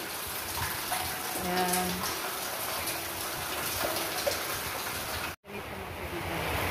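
Rainwater pours steadily into a garden well after a heavy downpour, a continuous close gush and splash with brief speech over it and a short break near the end.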